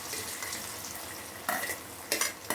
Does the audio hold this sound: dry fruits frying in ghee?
yes